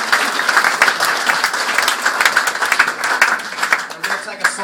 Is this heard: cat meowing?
no